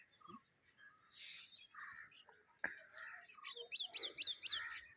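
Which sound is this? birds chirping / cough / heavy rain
birds chirping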